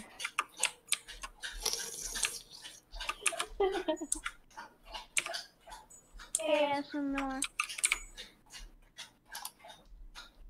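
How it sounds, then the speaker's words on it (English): Quick, rhythmic lapping from a dog drinking water sounds close by, steady ticking laps running under people talking and laughing. "Sorry about the sound of our dog getting water."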